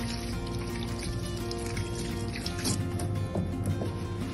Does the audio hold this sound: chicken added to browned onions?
no